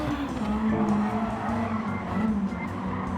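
A race car in Gran Turismo 7 brakes hard and skids, its steady engine drone joined by a wavering tire squeal that swells and fades over a few seconds, with no voices.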